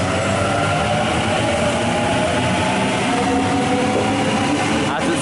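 A Sydney Waratah train pulls out of a station with a loud, continuous rumble and rolling rail noise, a faint hiss and clatter over the steady roar, with a voice talking under it.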